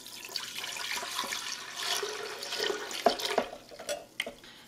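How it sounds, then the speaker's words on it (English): Strained strawberry horchata liquid pours and splashes back into a blender nearby, a steady watery gush ending in a few sharper drips and clunks. "you're gonna pour it back into your blender."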